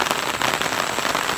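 Rain falling in a steady, dense patter on surfaces nearby, loud and even throughout with no talk.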